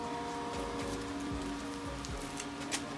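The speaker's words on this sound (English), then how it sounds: "As you can see, it's raining." Steady outdoor rain pattering on surfaces around a garden table of potted carnivorous plant seedlings, a constant soft hiss with faint scattered drips, fairly quiet and without voices.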